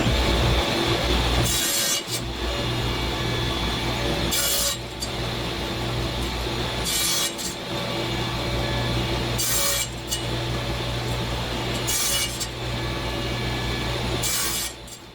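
Saw cutting curly maple ring segments for a segmented salad bowl, a steady rasping hum running under repeated bright bursts of cutting every two to three seconds, close and loud with no talk.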